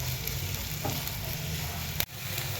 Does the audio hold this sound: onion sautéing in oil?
yes